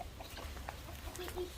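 Soft, scattered clucks from a hen in Morocco, faint and fairly close, with a low background rumble.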